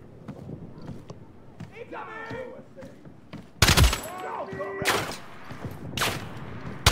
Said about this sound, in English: Thought the gunshots were coming from the door.